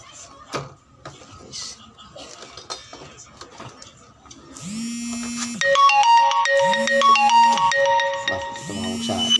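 An incoming call sets off a phone ringtone in a workshop during a spin dryer motor repair, a loud, repeating electronic melody in regular bursts following quieter clicks and handling noises.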